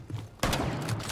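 A single loud shotgun blast in Rainbow Six Siege cracks out sharply after a brief quiet lead-in, followed by a lingering rumbling tail.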